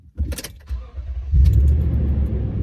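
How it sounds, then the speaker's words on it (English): A Toyota Tacoma pickup engine cold-starts after a brief clatter: a short crank burst, then the motor catches and settles into a loud, steady low idle close by. "Cold start."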